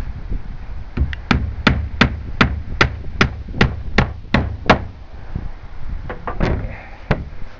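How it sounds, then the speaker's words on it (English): Nails are hammered into plywood on a shed in a run of about a dozen sharp, evenly spaced wooden knocks, followed by a few looser, scattered blows, all close and loud. "We're nailing into place."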